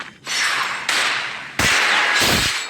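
Gunfire in a video game headshot: a handful of loud, sharp cracks in quick succession, each with a brief bright tail, heard close with no talk.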